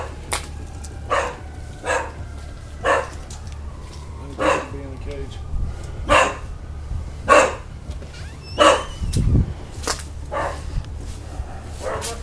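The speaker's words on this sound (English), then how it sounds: "the sound of barking dogs is clearly heard" Several dogs bark in short bursts at a moderate distance, scattered irregularly over steady background noise and faint voices.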